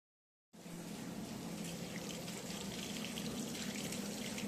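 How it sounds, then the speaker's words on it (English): Cold water pours over fried tofu dough arranged in a water tank, starting abruptly after a brief silence and then running as a steady rushing splash with no talking. "The油揚げdough is arranged neatly in a water tank and cold water is poured over it."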